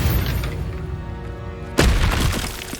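An Expelliarmus spell strikes in the wizarding game Hogwarts Legacy with a sudden booming crack and shattering burst midway, rising over a rumbling magical combat bed.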